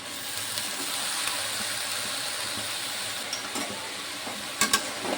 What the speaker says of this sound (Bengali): শাকটা ভালো করে কষে নেবো।